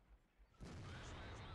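A tank cannon fires in World of Tanks: after a quiet stretch a sudden heavy boom erupts, followed by a loud rumbling, crackling tail that sustains to the end.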